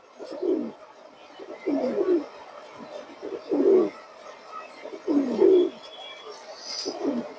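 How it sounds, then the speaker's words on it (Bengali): A female Chila pigeon of an old line coos close by in a series of five low, rolling bursts about every second and a half, with quiet background noise between calls. "খুবই সুন্দর একটা কবুতর"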